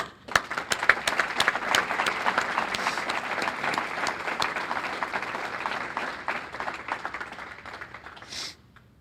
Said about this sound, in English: Parents, for all that these coaches do for us and our futures, I think they deserve a round of applause.